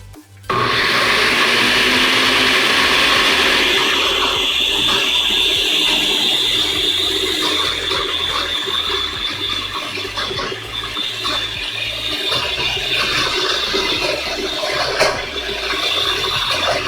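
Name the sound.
blender pureeing vegan mac and cheese sauce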